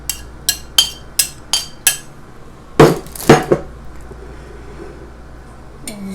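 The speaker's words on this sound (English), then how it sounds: "You're going to stir the cornstarch mixture in here." A utensil works a cornstarch mixture into a pineapple chicken stir fry in a pan: six evenly spaced sharp metallic taps, then two louder clanks and a faint final knock, close by with no speech.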